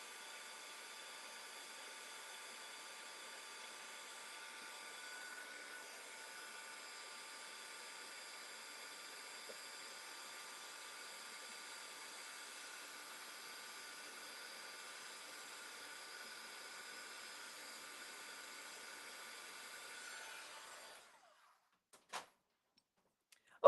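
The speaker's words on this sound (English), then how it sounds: "I'm just going to zap these with the heat tool because I did do a couple spritzes of them, so they're still a little wet" A heat tool blows steadily to dry freshly spritzed crafting pieces, a constant faint airy whir running alone for about twenty seconds before cutting off, then a couple of small knocks.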